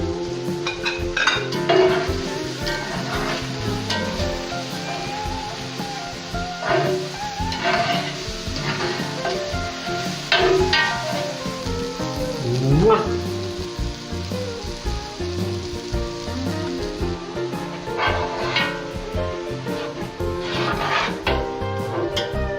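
Garlic and leek fry in a heavy iron pot over a wood fire, a steady loud sizzle with repeated stirring scrapes and clanks of a utensil against the metal throughout.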